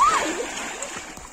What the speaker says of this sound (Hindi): शैम्पू लगा के नदी में नहा रहे हैं।